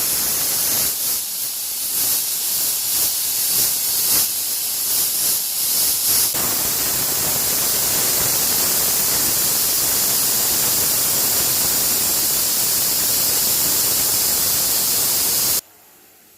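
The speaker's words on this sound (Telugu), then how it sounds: "ఇప్పుడు 3 విజిల్లు వచ్చాయి కదా" A pressure cooker steams over seeds being cooked, a loud continuous hiss running for about fifteen seconds before it cuts off abruptly.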